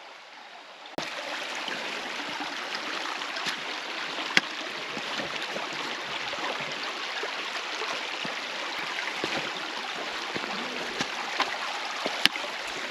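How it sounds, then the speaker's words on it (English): Flowing creek water in Red River Gorge, Kentucky rushes and splashes steadily close by, with irregular sloshing and occasional knocks as someone wades across it. "And apparently I get to cross the creek again."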